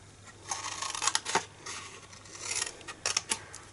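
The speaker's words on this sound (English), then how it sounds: "you're going to cut up to the score line here on all of these tabs" Scissors snip paper box tabs up to a score line, with quiet, close-up crisp cuts in a few short clusters over soft handling noise.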